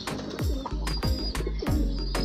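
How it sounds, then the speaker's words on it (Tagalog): Pigeons feeding close by, giving a few soft rhythmic throaty coos in repeated low phrases, each with a swooping contour, against a light outdoor background. "Mga gandang kalapati to guys"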